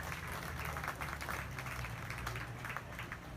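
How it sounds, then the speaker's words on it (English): An audience at a youth beef market show applauds with steady, dense clapping throughout, faint and distant. "Let's give that young lady a big round of applause"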